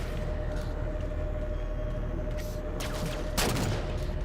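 Gunfire from the starboard side in a Halo video game on Xbox, a loud burst of shots standing out near the end over a constant rumbling engine drone and background game noise.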